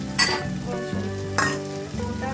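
A whole large tomato drops into a pan of sizzling mixed vegetable curry, setting off a steady close frying hiss with bright bursts of crackle as it lands and is stirred.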